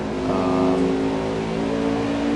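Race trucks battling on the Eldora dirt track, a loud, steady engine drone with a held, revving pitch, close and continuous.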